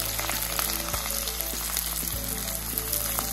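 Onions drop into hot oil where cumin and green chillies are already frying. A continuous loud sizzle fills the whole stretch, steady and close, with faint scattered crackles and no talking.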